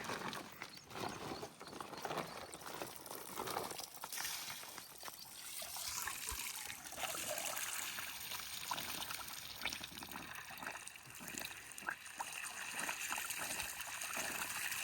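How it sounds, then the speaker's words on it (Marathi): Water is poured from a plastic bag into a farm pump motor, making a soft, uneven trickling and splashing that runs on and off at moderate distance. "पिशवीमध्ये पाणी भरून आणतात मोटारमध्ये टाकायला"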